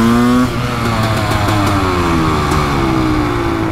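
A Kawasaki KX500 big bore two-stroke supermoto engine revs close up with a raspy, loud note, dropping from a high rev into a rough, burbling idle with pitch sliding downward.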